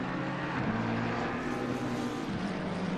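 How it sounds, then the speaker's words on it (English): Mercedes GT3 race car engine at Zolder during a lap, a steady loud drone with sustained low harmonics and little variation, heard alone without talk. "We can go inside his Mercedes to watch one lap time. Only engine sound, I can say."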